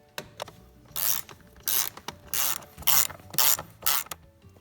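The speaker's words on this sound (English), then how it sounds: "I've decided to take these bolts out so this metal frame can actually be removed" A socket wrench ratchets bolts out of a metal chair frame from 1961, giving rapid clicking bursts repeated six or seven times in quick, rhythmic strokes, close and distinct.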